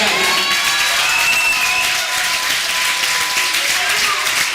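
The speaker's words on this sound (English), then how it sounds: "I think all you here in the underground need to put your hands together for Max fucking X." A large crowd at an underground wrestling show applauds and cheers loudly for wrestler Max X after a title match, a dense, sustained roar of clapping and shouts.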